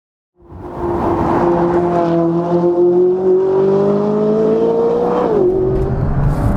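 A McLaren 570GT engine starts and holds a loud, close, droning note that rises steadily in pitch as the car accelerates, then dips briefly as if shifting gear before climbing again.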